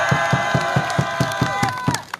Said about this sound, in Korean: 자, 성수분들 함성 한번 듣도록 하겠습니다.